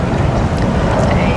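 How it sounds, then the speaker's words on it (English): Strong wind blowing outdoors, a loud, continuous low roar and rumble buffeting the microphone for a second and a half. "Oh, it's really windy now."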